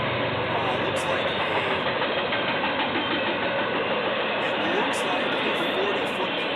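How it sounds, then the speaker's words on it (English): A northbound CN freight train hauling 40-foot shipping containers rumbles steadily past trackside, a loud continuous roar with faint rail clatter throughout. "It's still a pretty nice view as we see a northbound CN train."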